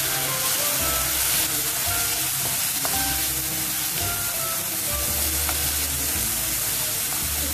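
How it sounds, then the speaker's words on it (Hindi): Finely chopped tomato and vegetables frying in a pan, with a loud, continuous close sizzle and occasional stirring clicks throughout. "इसको हम थोड़ा सा भून लेंगे अच्छी तरह"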